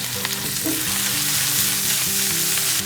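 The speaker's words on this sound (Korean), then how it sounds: "가능한 센 불로 빨리 굽는 게 중요한 부분이죠" Vegetables stir-fry over high heat with meat and scallion oil for a gochu japchae made with frozen dumplings, a loud steady sizzle filling the clip alone, with scraping stirs and clatter running throughout.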